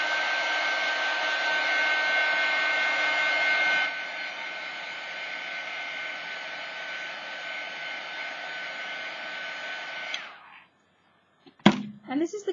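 A hair dryer blowing on wet paint on a small card, a steady close whooshing roar that drops to a lower setting partway through, then cuts off, followed by a few brief clatters and handling sounds.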